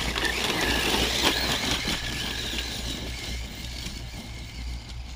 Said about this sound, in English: That is full throttle Senton V3.